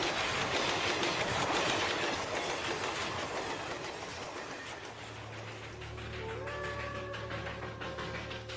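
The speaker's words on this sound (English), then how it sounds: "the super-fast express trains command the rails" Super-fast express train on Indian railways rushing past, a dense roaring clatter of wheels on rails that fades, followed by a steady low rumble and a faint sustained tonal hum as it moves away, with no talking.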